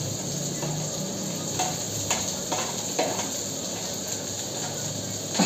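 Green chilies sizzling in a pan for bachelor-style poha, a steady close sizzle with several light scraping stirs of a spatula against the pan, with no talking.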